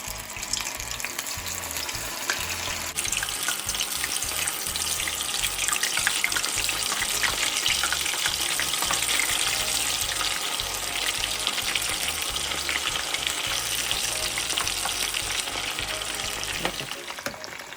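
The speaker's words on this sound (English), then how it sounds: "So the prawns are frying nicely." Steady, loud sizzling and crackling of batter-coated prawns deep frying in hot oil, continuous throughout with no talking.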